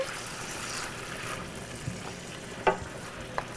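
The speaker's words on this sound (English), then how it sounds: "We're going to throw the fresh tomato sauce in." Fresh tomato sauce sizzles steadily in a hot pan as it is added, a dense close frying hiss with a couple of brief clinks.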